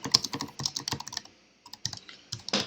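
Fingers type commands on a computer keyboard to configure a network in Packet Tracer, producing quick bursts of close, crisp key clicks, a short pause, then more rapid tapping.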